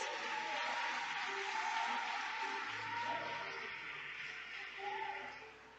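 A church congregation applauds steadily, the clapping soft and distant in a large room, holding fairly even for several seconds before easing slightly.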